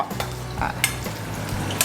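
French fries frying in hot oil in a small wok, with a steady close sizzle and light stirring scrapes of a long spatula against the pan.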